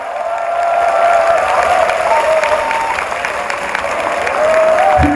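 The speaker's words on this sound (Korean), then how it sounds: "큰 박수 한번 보내세요." Sustained applause from an audience at a Buddhist temple gathering for a monk, loud and steady clapping that fills the whole stretch, with a few cheers mixed in.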